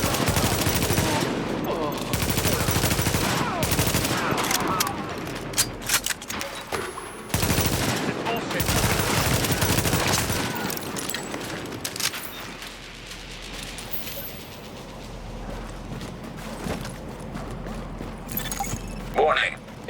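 Sustained heavy gunfire from the third-person shooter The Division keeps up in dense automatic bursts, loud and close, with fusillade-like volleys and mechanical clatter, tapering into scattered shots near the end.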